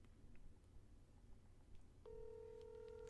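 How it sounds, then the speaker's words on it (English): Faint background hiss gives way to a steady, clear telephone tone from a call being placed, which starts about two-thirds of the way through and holds to the end. "Let me get Shawn Teed on the telephone"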